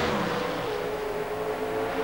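A drag racing car at the 1993 NHRA Slick 50 Nationals in Houston, Texas, launching off the starting line with the clutch dumped at about 7,500 to 8,000 rpm, a loud, sustained engine roar that holds steady throughout.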